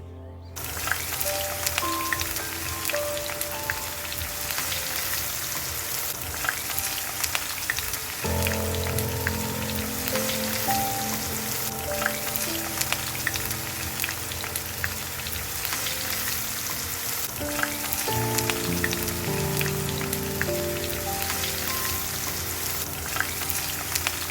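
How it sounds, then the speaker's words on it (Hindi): Two chopped medium onions stir-fry in a pan for a chana and soya curry, giving a continuous close sizzle with crackles and spatula scrapes over a faint background hum, no speech. "ये 2 मीडियम साइज ऑनियंस को हमने चॉप करके रखा था। इसको थोड़ा स्टर फ्राई कर लीजिए।"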